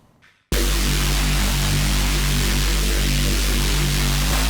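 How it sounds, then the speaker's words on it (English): Thick Reese bass synth patch built in Vital for drum and bass, stacked detuned saw waves with seven voices running through analog and digital filters, a loud sustained buzzing drone that cuts in abruptly after a brief quiet moment and holds steady. "I have another saw wave, but I have it up to 7 voices because I want this nasty detuned sound over the whole thing."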